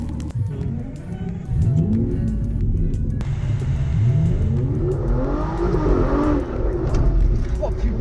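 An Aston Martin Vanquish's naturally aspirated 6-litre V12 roars and revs hard up through the gears of its single-clutch gearbox, its pitch sweeping upward repeatedly, with voices talking over the din.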